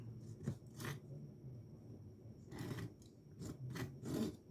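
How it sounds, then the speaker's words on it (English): A knife blade rasps and scrapes in short bursts of gritty scratching, close and fairly quiet, with brief pauses between strokes. "Just trying to clean the slot out."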